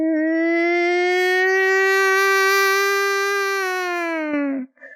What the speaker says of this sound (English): If you've never heard a tornado siren, pretty eerie.